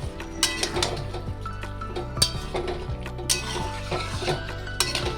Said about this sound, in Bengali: চালের সঙ্গে সব কিছু ভালোভাবে মিশিয়ে নিতে হবে।